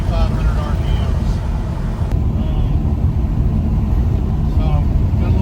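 A Charger cruising at 60 mph and 2,500 RPM, steady low engine drone and road rumble heard from inside the cabin, constant and loud, with people talking over it.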